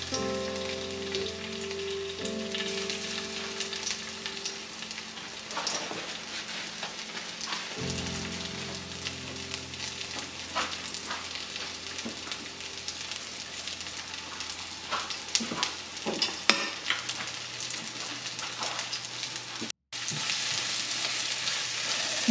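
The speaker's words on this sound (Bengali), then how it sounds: "রসুন কুচি দিয়ে একটু ভেজে নেব।" Chopped garlic sizzles and crackles steadily in hot oil for a Bangladeshi tomato vhorta, a dense continuous frying hiss with occasional stirring clinks, no voices.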